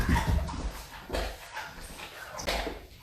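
A small dog gives short whimpers and soft yips in a few separate bursts, fairly close and moderately loud, with quiet gaps between them in a calm indoor setting.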